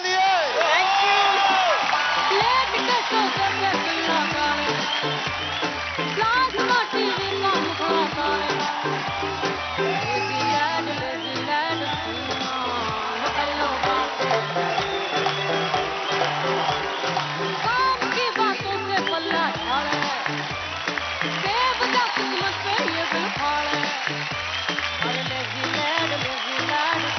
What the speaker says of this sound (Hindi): एक बार जोरदार तालियां हो जाए विद्या के लिए।